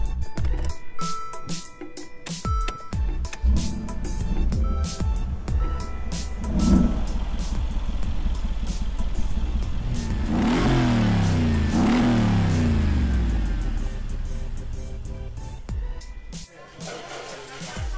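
A Mercedes G63 AMG drives and accelerates, its engine rising into loud revving surges in the middle and settling back toward the end, heard from close range.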